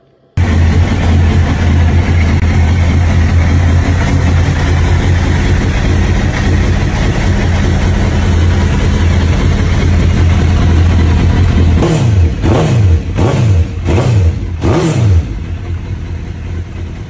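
A Suzuki GSX-R1000 motorcycle engine idles with a steady, low throb, then is blipped in four or five sharp revs near the end.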